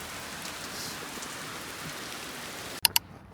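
Steady rain patters continuously on surfaces, a soft even hiss, ending with two sharp clicks.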